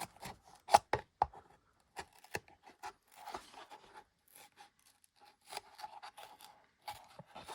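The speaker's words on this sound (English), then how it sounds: "And then you can just trim out that circle." Household material being trimmed in a circle with scissors for a homemade deck box, a series of short, crisp snips and rustles spread irregularly across the stretch, close and quiet.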